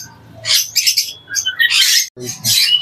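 Rainbow budgerigars in a bird shop give several bright, rapid chirps and tweets in short bursts, close and fairly loud, with low background murmur between calls.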